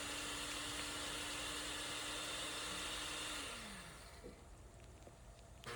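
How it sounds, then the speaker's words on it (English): An electric blender grinds homemade cereal ingredients into a fine powder, a steady, loud whirring motor that runs for several seconds, then drops in pitch and winds down, leaving faint rattling. "we are adding all this to a blender and grind it to a fine powder"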